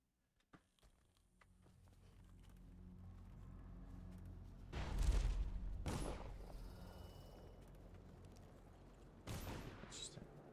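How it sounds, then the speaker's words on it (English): Distant bursts of gunfire in the video game Dishonored come through a low rumbling background: one cluster in the middle, then a sharper burst near the end. "See, I hear the gunshots again, but there's nobody here."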